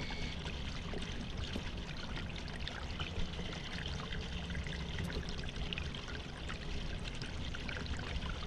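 Water pours steadily from a tap in the horror game Hello Neighbor, a continuous splashing rush that runs alone and evenly throughout.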